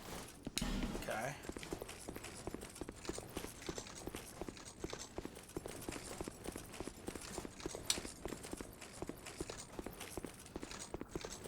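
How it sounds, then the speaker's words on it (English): Hooves clip-clop in a steady, quick rhythm from a horse in a fighting video game, a run of evenly spaced sharp taps at fairly low level with a thud at the start. "Horse ahead."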